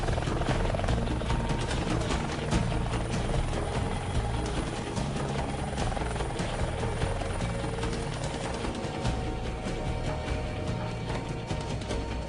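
A helicopter flies close overhead, its rotor chop beating steadily and loudly throughout, with a heavy low engine roar that holds an even level from start to finish.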